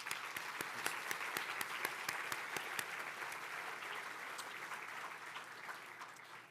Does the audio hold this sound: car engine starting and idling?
no